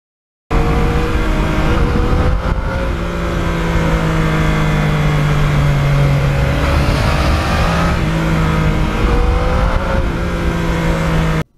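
A Yamaha MT-09 motorcycle engine revs hard and steadily, its loud, rising and falling drone shifting pitch through gear changes on an open road, close and continuous with no voices.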